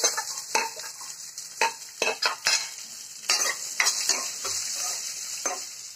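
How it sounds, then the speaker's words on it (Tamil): Onions with curry leaves stir-frying in a pan for sambar, a steady close sizzle broken by repeated sharp scrapes and clinks of a spoon against the pan over six seconds, no voices. "வெங்காயம் நல்லா வதங்கிடுச்சு."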